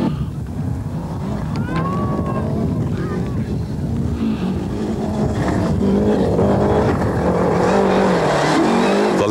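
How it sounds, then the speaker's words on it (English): Lancia rally car on a tough, dusty stage of the 1995 Elpa Rally Halkidiki in Greece, its engine loud and revving through gear changes amid wind buffeting, with a commentator talking over it. "The Lancia still competitive here on a tough, dusty rally stage."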